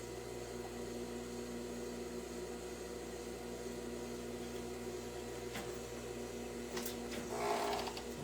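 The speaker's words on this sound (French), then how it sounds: "je prends mon côté et je m'en vais ici coudre ça" A sewing machine sews a seam with a low, even mechanical hum that continues steadily, followed near the end by brief rustling and handling sounds.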